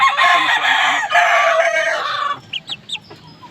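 A rooster clucks and calls loudly and continuously at first, then gives a few short separate clucks near the end.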